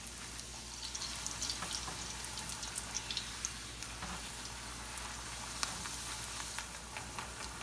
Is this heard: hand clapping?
no